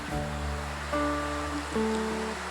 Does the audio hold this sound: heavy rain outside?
yes